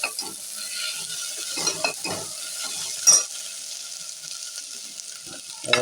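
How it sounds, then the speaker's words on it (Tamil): Vegetables and potatoes sautéing in ghee for a paneer kurma, a loud steady sizzle with a ladle stirring and scraping the pan in a few bursts and occasional metallic clinks. "எல்லாத்தையும் நல்லா நெய்யிலே வதக்கி விட்டு"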